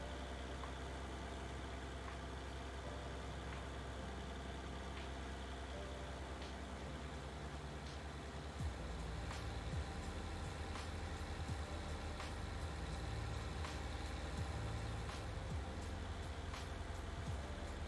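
A tractor engine idles in Farming Simulator 19, a steady deep rumble that runs the whole time and shifts slightly heavier about halfway through, with faint ticking clicks above it and no voices.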